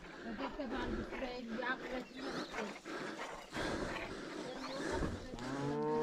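Cattle at a highland pasture low and moo among quiet morning sounds, while people talk nearby close to the animals.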